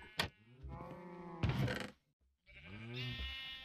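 Several drawn-out mooing calls from Minecraft cows come one after another, close and fairly clear, with a short pause between the later ones.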